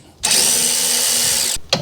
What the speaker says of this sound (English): you're gonna loosen these bolts, 14 mil.